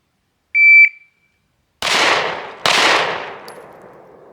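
A shot timer beeps once, then two handgun shots ring out about a second apart during a rapid sight-alignment drill, each a loud sharp crack with a long decaying echo outdoors.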